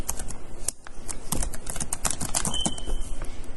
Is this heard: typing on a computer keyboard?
yes